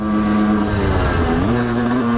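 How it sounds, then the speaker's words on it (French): A 50cc scooter fitted with a 70cc engine and an old 50-70 exhaust with a worn-out packing revs loudly and close by, with a buzzing two-stroke note that dips and climbs again. "on va tester un peu le son de mon ancien pot"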